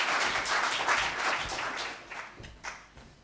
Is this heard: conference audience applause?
yes